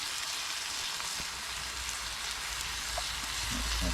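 Sauce warms in a skillet at a truck campsite with a soft, steady sizzle and faint bubbling. It stays quiet and continuous, with no voices over it.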